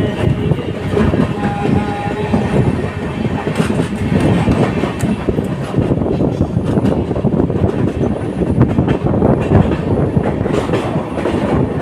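The 13151 Jammu Tawi Express rolls on rails toward Gomoh, Netaji Subhas Chandra Bose Junction, with a loud, steady rumble and clatter of wheels and carriages that lasts throughout.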